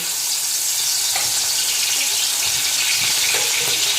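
Bhetki fish bones coated in salt and turmeric frying in hot oil, a constant loud sizzle and crackle with a few faint clinks and stirring knocks underneath.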